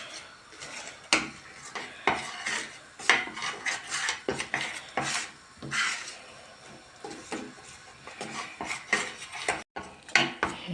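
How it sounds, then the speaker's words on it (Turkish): A utensil stirs flour being roasted for halva in a pan, making repeated scraping strokes and sharp clinks of metal against the pan at an uneven pace, close and moderately quiet, with no talk. "Hemen karıştırıyoruz. Yakmadan şöyle güzelce kavuruyoruz."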